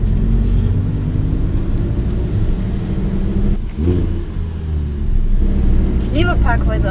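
A sports car rolls into a parking garage, its engine a deep steady rumble with a brief rev, echoing inside the concrete space while people talk over it.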